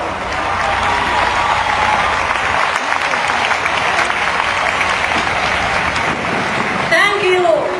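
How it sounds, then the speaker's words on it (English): Loud, sustained applause from a large outdoor rally crowd at a Save Darfur protest in Washington, DC, a dense continuous roar of clapping with a brief voice and whistle-like cry near the end. "Please, a warm round of applause."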